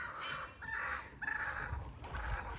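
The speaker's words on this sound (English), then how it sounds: "So the rooster won't leave Mama alone up there" A rooster crows nearby in a few drawn-out calls separated by short gaps, with faint clucking and outdoor rumble beneath.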